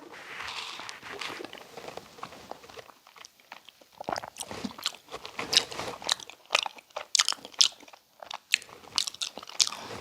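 Close, crunchy chewing and biting of curry mixed into rice cooked in an iron cauldron pot, with spicy kimchi alongside, heard as a dense, continuous stream of wet crunches and smacks with no talking.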